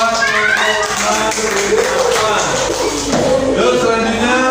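Classroom group applauding a team of students, a steady wash of clapping hands with children's voices chattering over it throughout.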